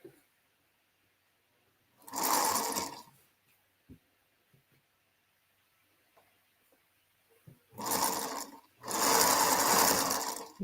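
A sewing machine runs in three bursts of rapid stitching, one short run and then two longer back-to-back runs, loud and close, separated by quiet pauses with small handling clicks.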